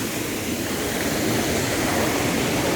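Rushing water at Keralamkundu waterfall in Kerala, a dense, even roar of falling and splashing water heard up close, steady and unbroken with no voices.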